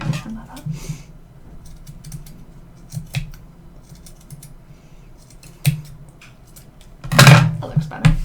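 Scissors snip yarn on a handmade yarn robin craft, a few short crisp cuts spread out, with a louder burst of snipping near the end over quiet handling noise.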